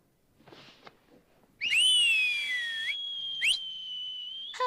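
An old grandfather whistling loudly, a long shrill sliding note that rises and holds, then breaks and resumes in short bursts after faint rustling at the start.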